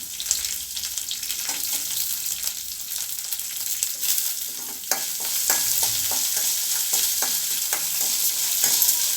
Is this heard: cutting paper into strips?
no